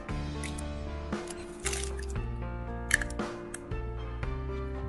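Three eggs are cracked into a bowl of mashed firm tofu, giving soft close taps and wet plops with squishy drips at intervals, quiet over a low hum.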